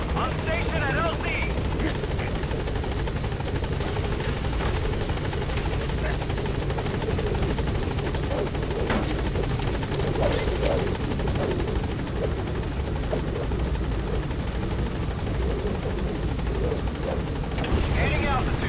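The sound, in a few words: helicopter arriving at landing zone, Metal Gear Solid V video game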